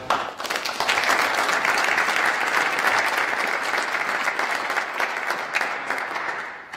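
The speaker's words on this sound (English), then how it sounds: "So you give yourself a round of applause for that." At a hardball doubles squash tournament, a crowd of players breaks into a sustained round of applause with dense, even clapping that swells quickly, holds steady and fades at the end.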